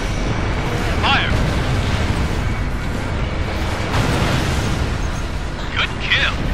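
Artillery guns fire and shells explode in the strategy game Stonehenge 2, a steady rumbling barrage with a few sharper bursts scattered through, heard under radio-style voice callouts.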